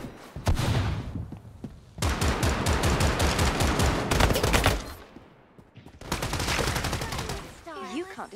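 Rapid bursts of automatic gunfire from the 5v5 paper-style shooter game Strinova, loud and close, firing in long sustained stretches with short pauses between, a few heavy thuds mixed in and no talking.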